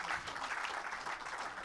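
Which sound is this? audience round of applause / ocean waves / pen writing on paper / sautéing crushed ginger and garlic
audience round of applause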